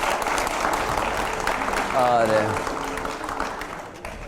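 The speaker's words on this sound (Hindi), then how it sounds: "तालियां हो जाए।" Audience applause at a political talk event, continuous dense clapping throughout with a brief spoken word midway.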